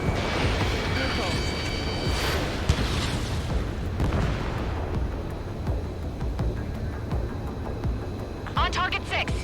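Missile explosions in the combat flight game Ace Combat 7, a run of heavy booms and bursts layered over continuous jet and game noise, with a voice speaking amid the blasts.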